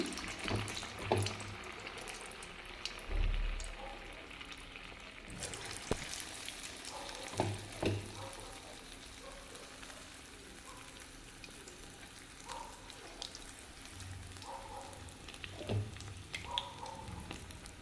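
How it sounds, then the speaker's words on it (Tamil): Medu vada frying in hot oil gives a soft, steady sizzle with intermittent splashes and clinks as batter is dropped in and stirred, fairly quiet throughout. "இப்போ எண்ணெயும் சூடாயிடுச்சுங்க வடை போட்டுக்கலாங்க"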